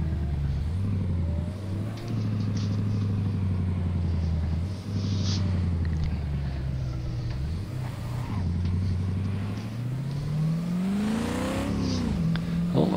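A 1992 Ford Falcon EB in a driving game cruises through suburban streets, its engine a steady loud rumble with rising and falling revs as it accelerates and shifts, heard alone throughout.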